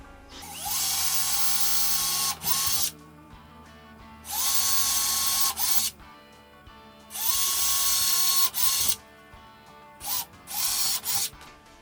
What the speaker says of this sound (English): So then we go ahead and drill our holes just like we did before.